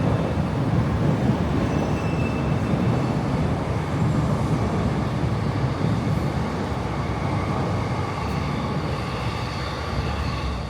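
A train rumbles steadily over railway tracks near Tokyo Station, a dense continuous roar with faint wheel squeal, heard from below the elevated lines with no voices, lasting throughout.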